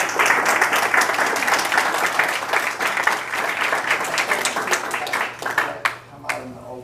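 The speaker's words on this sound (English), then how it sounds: "Can we have a round of applause for them as well?" A round of applause fills a school board meeting room, steady dense clapping from a seated audience for several seconds before thinning out into a few last claps.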